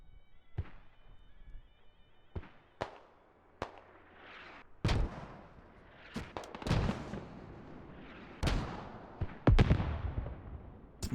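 Mortar shells land in a video game as a string of sharp, loud booms and blasts. The impacts are irregularly spaced, several come close together, and they stand alone over a faint background.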